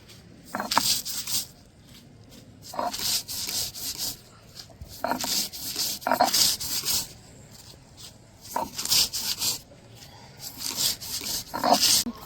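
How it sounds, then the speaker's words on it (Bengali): Fried puffed rice is crushed on a stone grinding slab with a stone roller, a rhythmic series of scraping, rubbing strokes in repeated bursts, moderately close and fairly quiet. "এবার খইগুলো আমি শিলনোড়ায় গুঁড়ো করে নেব"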